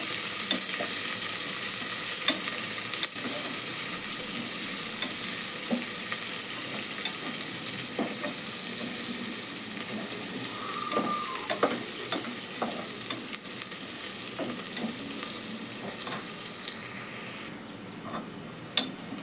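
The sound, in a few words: onions frying on medium flame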